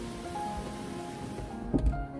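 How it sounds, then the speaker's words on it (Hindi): Rain beginning to fall outside gives a steady, soft hiss of drops throughout, heard from indoors, with a dull thump near the end. "बारिश चालू हो गया, आवाज़ आ रहा है क्या?"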